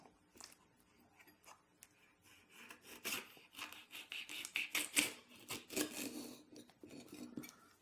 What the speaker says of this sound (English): So I'm going to try to get some rib material here as I cut some pieces to taste